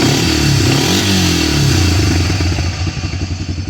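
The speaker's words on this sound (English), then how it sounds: "A bit of timing chain noise, but that's kind of to be expected of something this age" An aged, probably abused quad runs close by, its engine note rough and clattering with timing chain rattle, a steady drone that turns into a choppier pulsing idle at the end.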